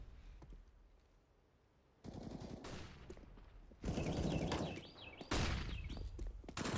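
Rapid automatic AK rifle fire in a Counter-Strike match, loud bursts of gunfire stacking up with other shots over a caster's excited commentary, growing denser and louder toward the end.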